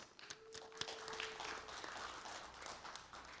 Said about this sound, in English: we offer you a big round of applause